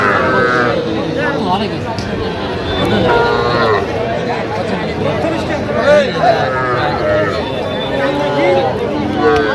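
Cattle, including small bulls and heifer calves, moo among a crowd at a cattle market in Faridpur, Bangladesh, with people chattering and calling throughout in a busy outdoor setting.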